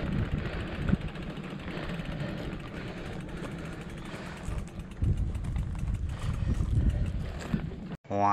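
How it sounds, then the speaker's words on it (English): Horses walk by on the Whiting Ranch trail with steady clip-clop hoofbeats under continuous wind and outdoor noise. The sound stays fairly loud and close throughout. "Gotta let the horses come by."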